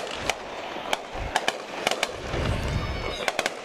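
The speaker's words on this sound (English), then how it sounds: "Fireworks are going off here." Fireworks at a high school football game pop in a scatter of sharp cracks and bangs, some in quick doublets, over a muffled rumble of the crowd and stadium.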